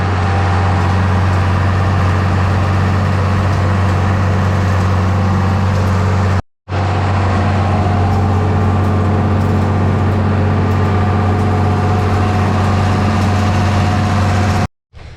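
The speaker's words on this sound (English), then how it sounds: "Mower's still going." A lawn mower runs on a farm as a steady, loud, close engine drone with a low hum, cut by two brief dropouts.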